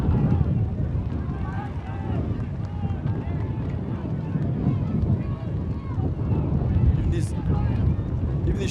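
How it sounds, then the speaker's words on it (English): Strong gusty wind, around 30 miles per hour, buffets an outdoor field during a women's ultimate frisbee club nationals quarterfinal, a constant low rumble of wind noise with faint distant sounds over it. "Very strong gusts, pushing 30 miles per hour."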